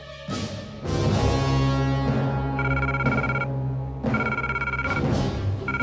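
The red telephone in a missile silo rings insistently, its loud bell-like trills repeating in bursts over a low background hum.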